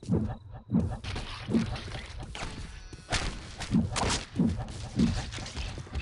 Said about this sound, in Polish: młot na hita wali je w łeb